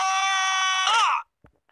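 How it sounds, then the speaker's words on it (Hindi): A video game character in LA Crimes lets out one long, loud, sustained scream with a wavering tone, cracking and bending near the end before cutting off abruptly, followed by a brief faint thump. "हाँ इसको चिल्लाने की आवाज भी आएगी"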